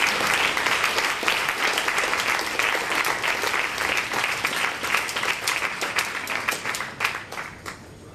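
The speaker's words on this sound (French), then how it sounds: "Merci de l'applaudir." An audience at a youth literary prize ceremony in Vernier applauds, with dense, close clapping that thins out and fades toward the end.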